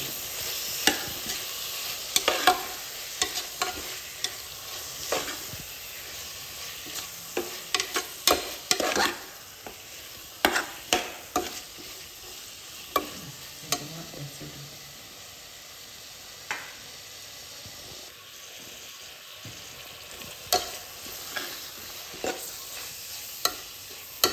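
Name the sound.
sautéing green chillies in a pan for chicken kurma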